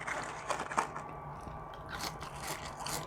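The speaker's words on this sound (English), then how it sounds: "we're gonna get right into it and try some fries" McDonald's fries are eaten close to the ear, with soft crunchy bites and chewing at a quiet level and no talking.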